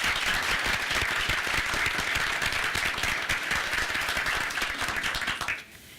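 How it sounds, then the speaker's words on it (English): A school board meeting audience applauds students, a brisk wash of many hands clapping at steady strength that cuts off abruptly near the end. "Please give these students a round of applause."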